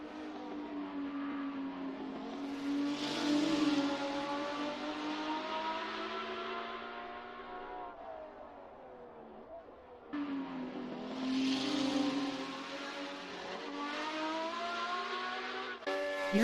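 A Porsche 917K race car engine roars steadily at high revs in a racing game set at Le Mans 1967, its pitch rising and falling through gear changes, with a sharp break near the end.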